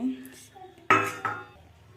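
A metal lid set down on a cooking pot during home cooking: two close clanks about a third of a second apart, the first louder, with a faint ringing tail and no talk.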